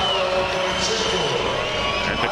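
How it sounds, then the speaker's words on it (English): A restless basketball arena crowd in Tel Aviv at a EuroBasket game, a steady wash of murmuring, shouts and scattered whoops filling the hall. "And the crowd getting restless here in Tel Aviv."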